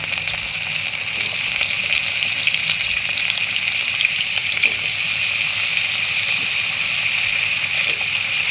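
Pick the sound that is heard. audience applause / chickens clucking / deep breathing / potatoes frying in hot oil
potatoes frying in hot oil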